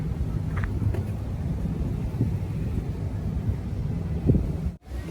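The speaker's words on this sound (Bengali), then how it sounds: "বিকালবেলা বেশ বাতাস" An afternoon breeze by a river in a park buffets the microphone with a continuous low rumble and soft gusts, steady and fairly faint throughout.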